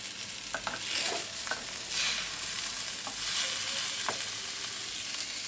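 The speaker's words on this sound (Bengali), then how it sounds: "চলো উচ্ছে ভাজাটা দেখি কেমন হয়েছে" Bitter gourd frying in a kadai, stirred with repeated scraping strokes over a steady close sizzle, no voices.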